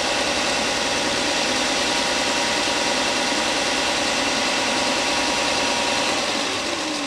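A Bauer 4x24 belt sander fitted with a fresh 80-grit belt runs at a steady loud, close hum with a whirring belt and no pauses. No one talks.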